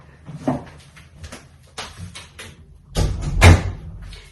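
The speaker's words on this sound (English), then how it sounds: "Let me close the door for a minute." An indoor door is pushed shut: soft handling bumps and scrapes, then a louder thud and latch click near the end, close by, with no talking.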